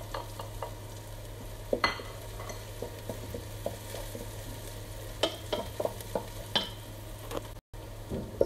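Garlic fries in a pan with a soft, low sizzle, punctuated by frequent light spatula scrapes and taps against the pan, with a steady low hum beneath.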